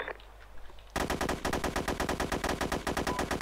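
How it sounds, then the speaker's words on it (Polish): Close Combat 2 game battle gunfire, a sudden burst of rapid machine-gun fire that keeps rattling in dense, loud volleys after a quiet start. "Nasi się strzelają."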